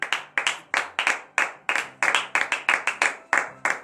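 Rhythmic clapping during a morning prayer gathering in Comè, Benin: a small group claps in sharp, distinct bursts, around fifteen claps at a fairly regular lively pace, close and clear with no voices.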